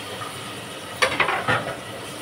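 Tilapia fries in hot oil in a pan, a soft continuous sizzle broken by a few sharp scraping stirs of a utensil against the pan.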